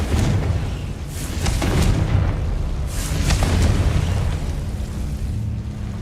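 Repeated booming blasts of the Confringo explosion spell in the Hogwarts Legacy video game on PC, several rumbling bursts with crackling debris over a steady low game ambience.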